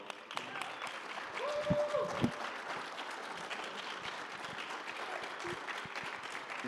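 Scattered applause from a small live-show audience rises and holds at a faint, steady level, with a brief voice and a couple of louder thumps near the start.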